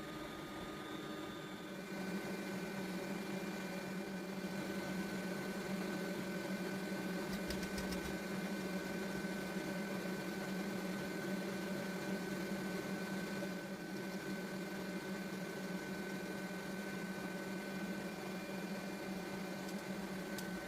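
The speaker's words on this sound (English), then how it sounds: "While whisking the eggs on a stand mixer, sift the dry ingredients once." A stand mixer whisking eggs runs as a steady, even motor whir for about twenty seconds, close and continuous, with no breaks.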